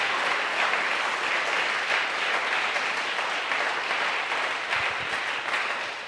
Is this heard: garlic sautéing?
no